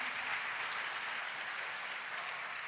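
Congregation at a church service applauding together, a steady even wash of clapping that sounds somewhat distant and soft, with no voices over it.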